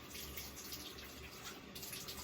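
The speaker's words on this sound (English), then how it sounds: "I'm going to turn this on, get this water pretty warm" Warm water runs steadily from a tap into a clear bowl, a soft continuous splashing hiss with no breaks, close but quiet.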